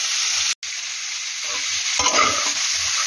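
Spinach ghonto is stirred and sizzling in a pan, a continuous frying hiss with scraping strokes that swell around the middle, close and alone.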